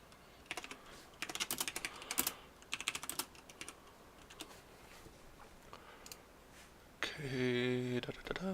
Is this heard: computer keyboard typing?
yes